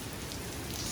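Steady rain from Hurricane Delta falls in a Louisiana yard, a dense, even hiss of drops pattering on surfaces, close and unbroken through the brief moment.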